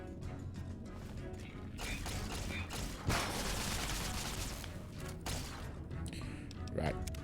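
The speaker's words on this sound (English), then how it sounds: "Got a Gauss rifle." Gauss rifle gunfire in Fallout: New Vegas, a few sharp loud cracks, one standing out midway and another near the end, over dense game noise with a voice talking.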